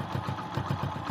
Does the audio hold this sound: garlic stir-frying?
no